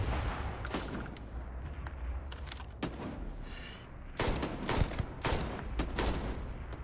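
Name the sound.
gunfire in the video game Starfield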